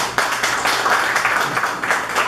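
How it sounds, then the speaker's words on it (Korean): A short burst of crowd clapping rises at a Korean community sports festival closing ceremony, dense and continuous throughout the brief moment. "박수 부탁드립니다."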